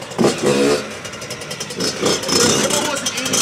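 A custom Yamaha YZ 85 two-stroke dirt bike engine revs in repeated rising bursts, loud and close, with someone talking over it.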